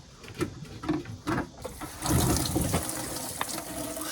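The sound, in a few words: old gasoline draining from Porsche 944 Turbo gas tank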